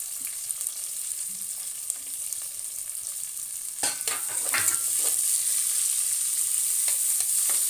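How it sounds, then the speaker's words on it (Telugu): Onions and green chilies drop into hot oil for an Andhra-style bitter gourd curry, a faint sizzle swelling into a louder, steady frying hiss with a few stirring clicks, no voices. "ఇందులో ఉల్లిపాయలు, పచ్చిమిర్చి వేసుకుందాం"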